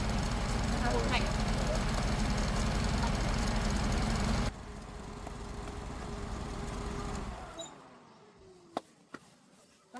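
A repaired car engine runs at a smooth idle, a steady loud hum for several seconds that abruptly drops away to a quieter drone and then fades out, followed by a few faint clicks.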